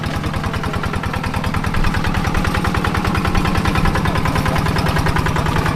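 A motorcycle engine idles while being parked, a steady, rhythmic chugging that stays close and even, growing slightly louder partway through, with no talk over it.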